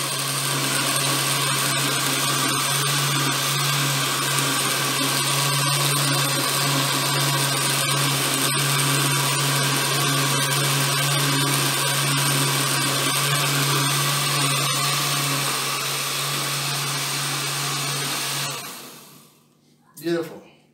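A blender whirs steadily at high speed blending apple punch for a long stretch, then cuts off abruptly, leaving near silence with a faint knock at the end.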